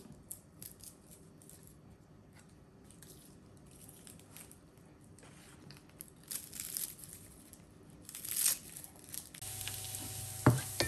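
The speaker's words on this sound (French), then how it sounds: "je mets mes dernières échalotes que je vais ciseler et faire revenir dans du beurre" Shallots frying in butter in a pan, a quiet low sizzle that builds toward the end as they are stirred, with brief rustling and crinkling and louder scraping near the close.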